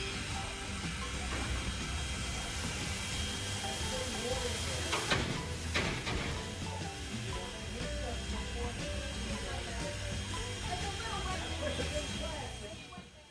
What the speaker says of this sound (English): this young apprentice let the water go from the spout a little too early on this water tank